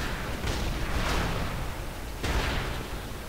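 Loud, dense roar of video game cannons firing, rumbling blasts with a couple of sharper booms rising out of the din, continuous and heavy throughout.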